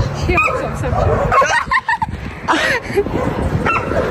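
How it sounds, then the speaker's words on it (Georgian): A dog yips and barks in short bursts close by, mixed with whimpers, while people talk over it. "ძაღლი უყევდა ამას რეაქცია რა აქვს"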